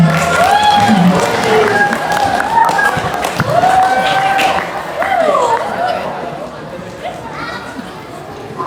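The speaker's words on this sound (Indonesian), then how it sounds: "Boleh tepuk tangan." Applause and cheering from an audience at a school event, with clapping and crowd chatter mixed with shouted voices and a loud nearby voice over the top, fading toward the end.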